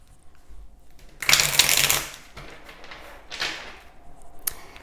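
Tarot cards shuffled by hand for a reading, a close, crisp riffle lasting under a second, followed by softer card handling and a second shorter shuffle, with a faint tap at the end.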